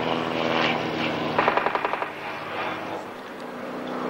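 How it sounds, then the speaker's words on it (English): A Spitfire warbird passes over Wroughton airfield at an airshow, its piston engine droning, with a rapid burst of popping crackles partway through, heard at a distance in open air. "Aeroplanes wheeling all over the sky."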